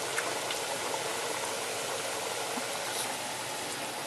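Continuous loud hiss and crackle of Sicilian panelle, chickpea flour fritters, frying in hot oil, a steady close sizzle with no talking.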